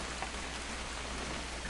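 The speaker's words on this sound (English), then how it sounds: "It's gonna rain the whole weekend, isn't it?" Steady rain pours down in a video game scene, a dense, even hiss of drops with no pauses over the short stretch.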